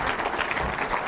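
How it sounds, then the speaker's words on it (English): A live audience at a spiritual talk claps for Carla, a volunteer who came up on stage: a brief, dense, even patter of many hands at steady loudness, with no voices. "First thing I'd like to do is ask you to please applaud Carla for having the guts to come up here"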